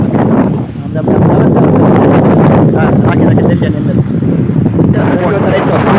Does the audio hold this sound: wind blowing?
yes